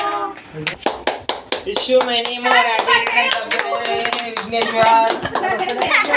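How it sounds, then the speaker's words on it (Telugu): Family birthday celebration with hands clapping in a steady rhythm close by while people sing together over it, voices and claps loud and lively. "క్లాప్స్."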